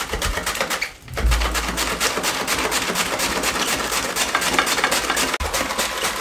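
A manual hand cutter chopping cabbage in a home kitchen, a fast, steady run of close rattling clicks from the spinning blades, with a brief pause and a low thump near the start, no talk.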